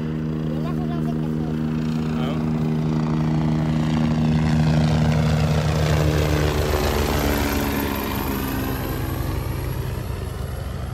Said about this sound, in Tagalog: Kung kitin kaya natin yung helicopter.